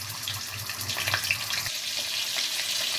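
Ginger paste hits hot oil with a bay leaf in the pan, giving a bright, close sizzle that holds steady after a few soft scrapes, with no voices.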